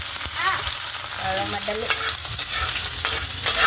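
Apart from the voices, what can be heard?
frying and stirring in hot oil for pork afritada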